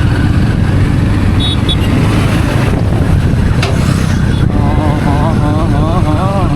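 A motorcycle ride on the way to the Adiyogi Shiva statue in Chikkaballapur, with a steady engine drone and heavy wind rush running throughout while a voice talks over it.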